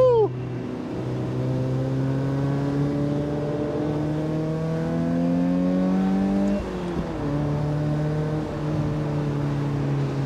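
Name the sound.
Mazda Miata engine accelerating on Tail of the Dragon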